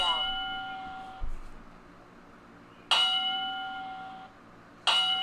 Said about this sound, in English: You're going to hear the bell go off a couple times here.